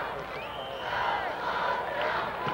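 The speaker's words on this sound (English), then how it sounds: "Los Al sure has a good crowd out tonight for them" Crowd noise from fans at a 1995 high school football game between Los Alamitos and Huntington Beach, a steady roar of cheering and voices filling the stands, fairly distant and sustained throughout.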